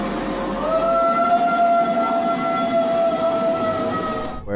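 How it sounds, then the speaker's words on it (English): An old dog howls at night, a long wavering drawn-out tone holding steady for several seconds before cutting off, fairly loud and close. "I'm wondering if this was just a really old dog trying to howl"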